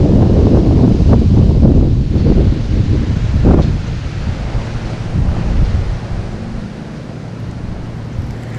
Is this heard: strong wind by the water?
yes